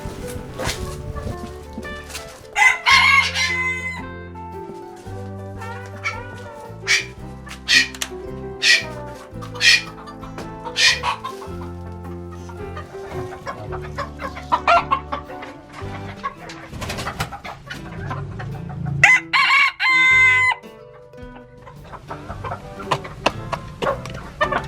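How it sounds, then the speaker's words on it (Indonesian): Ornamental chickens cluck repeatedly in a busy, close flock, with scattered squawks and a few cooing calls overlapping throughout. "kita beri makan ayam camois"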